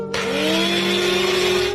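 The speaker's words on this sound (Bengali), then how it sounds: "এবার আমি এগুলো ব্লেন্ডার করে নেই" An electric blender whirring through grapes for juice: one short, loud, steady motor whine with a rising pitch, starting and stopping abruptly, with no voices.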